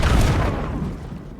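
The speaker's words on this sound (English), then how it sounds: "Instead, I threw a grenade and kaboom." Grenade blast in Star Wars Outlaws, a single loud, close boom with a broad rumbling tail that fades over about a second, heard on its own.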